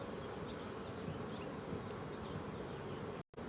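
Honey bees buzz at an open hive as a split is made, a dense, continuous, fairly loud drone filling the whole stretch, broken by one brief dropout near the end.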